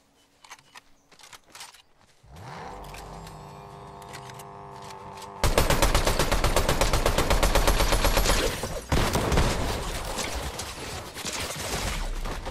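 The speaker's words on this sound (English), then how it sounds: "Who is shooting at me?" Rapid gunfire in an online shooter video game, starting with a few faint shots, then a steady mechanical drone and finally dense, loud automatic bursts that keep going with only brief pauses.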